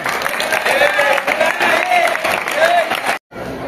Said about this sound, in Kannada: ಎಲ್ಲರೂ ಚಪ್ಪಾಳೆ ತರ್ತೀರಾ ಜೋರಾಗಿ?